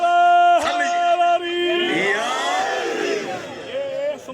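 A crowd at a Shia majlis gathering in Lahore roars a religious slogan in unison, a loud swelling shout of many voices that rises and sustains before fading, following a single voice's lead-in.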